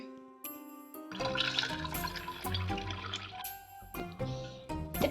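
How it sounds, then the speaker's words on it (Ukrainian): Water pours and trickles into two small cups, each filled halfway, with a gurgling, filling sound, fairly quiet and close, with a few small clinks. "В Два стаканчики наливаємо по половинці води."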